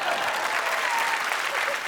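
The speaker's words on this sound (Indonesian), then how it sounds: "Tepuk tangan buat Mas Abdul." Studio audience applause at a stand-up comedy show, a steady wash of dense clapping heard on its own for about two seconds.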